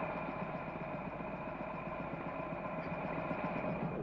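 Several motorcycle engines idle in front of a garage, giving a steady, continuous mid-range rumble with a faint vibrating texture that holds even from start to finish, with no talking.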